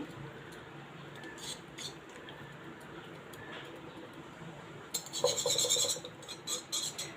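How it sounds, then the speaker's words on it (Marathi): Butter and cooking oil mixed in a bowl for a rava semolina cake: faint scraping and clinking of a utensil against the bowl, turning into a brisker, louder burst of rhythmic clatter toward the end. "आता इथे बटर आणि तेल आपण मिक्स केलं आहे"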